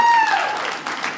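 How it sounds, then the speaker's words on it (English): Short burst of scattered audience clapping at a stand-up comedy show, following a fading tone and with faint crowd noise underneath. "Clap if you're the clean one tonight."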